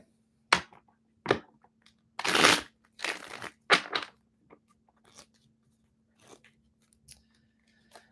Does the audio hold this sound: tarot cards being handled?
yes